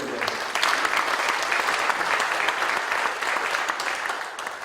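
Sustained applause from a church congregation at a Korean prayer-hall opening service, steady dense clapping filling the room for several seconds and tapering slightly at the end.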